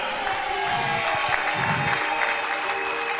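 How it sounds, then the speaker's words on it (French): A church congregation applauding, dense continuous clapping from a crowd filling the room, steady and fairly loud with faint voices mixed in. "Applaudis très bien le Seigneur."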